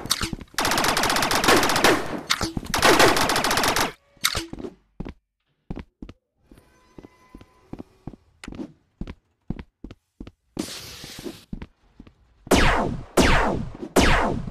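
Rec Room Star Wars game gunfire: loud sustained automatic bursts at the start, then scattered sharp single shots and thuds, and more rapid bursts near the end, with no voices.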